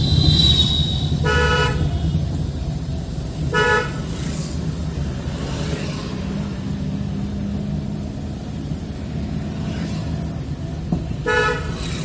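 A car horn honks in a few short bursts, spaced seconds apart, over constant road and engine noise from traffic.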